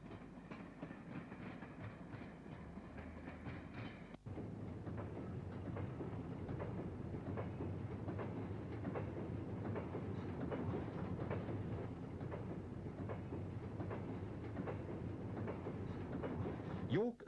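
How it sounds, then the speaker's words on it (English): An air-braked block freight train rolls past, with a steady rumble and a long regular clickety-clack of wheels over rail joints lasting many seconds, moderately close, while a narrator talks over it. "For now, the air-braked block train has taken over."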